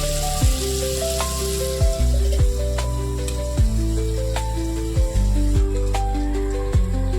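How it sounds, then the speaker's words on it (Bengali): Bottle gourd and green chillies frying in a partly covered pan, a loud continuous sizzle with recurring sliding tonal sweeps over it. "এবার এটাকে একটুখানি চাপা ঢাকা দিয়ে ভাজা ভাজা মতো করব।"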